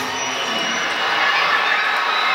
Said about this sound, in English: headed over the top by Crystal Dunn, but the U.S. exciting this crowd here in Sandy, Utah.